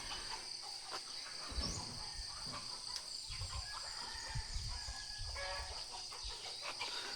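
Rooster crowing among other farm animal calls on a countryside farm in the early morning, with scattered chirps and clucks over a steady outdoor background with insect buzz.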